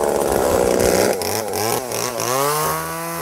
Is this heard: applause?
no